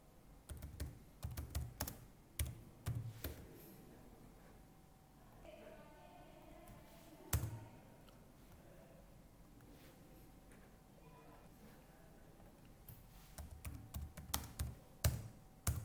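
Bursts of computer keyboard typing, close clicks in quick clusters separated by a quieter stretch with faint background sound, while configuring inter-VLAN routing on network equipment.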